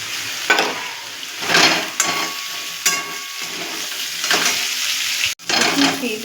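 Potatoes fry on medium heat in a covered pan, giving a soft continuous sizzle broken by several louder bursts of stirring and a brief clatter.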